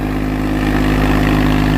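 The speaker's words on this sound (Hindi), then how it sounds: "तो भाई अब खुल के आ रहा ट्रैक्टर पूरा देखो" A new Swaraj tractor engine, freshly run in, idles loudly and steadily at close range with a constant low throb and no voices.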